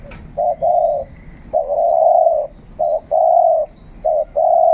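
A dove coos in repeated soft, low phrases with brief pauses between them, close and clear, with faint chirps in the background.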